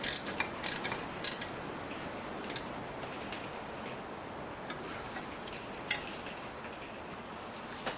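A ratchet drives the rear brake caliper bolts on a 2008 BMW 318i E90, giving rapid continuous clicking with a few sharper knocks, close up and alone.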